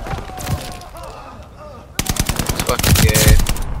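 Gunfire in the video game Call of Duty Vanguard, including a shotgun: a few scattered shots come first, then a loud rapid burst of close, sharp reports, with someone talking over them.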